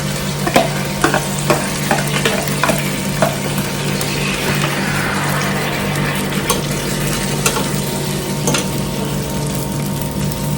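Seasoning stirred into pork frying in a pan, a steady loud sizzle running throughout with repeated close scraping and clinking strokes of the spoon against the pan.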